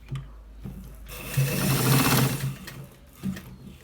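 A sewing machine stitches a shirt collar in a rapid, rattling run that swells to full speed at the center and then slows, with softer start-stop stitches before and after, close up.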